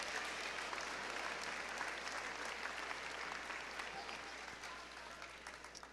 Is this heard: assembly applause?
yes